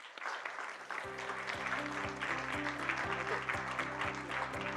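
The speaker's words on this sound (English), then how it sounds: "So give them a round of applause." An audience at an energy efficiency panel discussion claps for the conference panelists, sustained applause that rises after a brief start, while a low musical tone plays beneath it.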